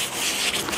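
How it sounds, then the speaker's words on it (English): Quick hand sanding across a lacquered wooden chair, a close, continuous abrasive rub lasting under a second, with no voices. "This little quick sanding that we're doing will just ensure that."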